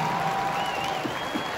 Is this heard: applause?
yes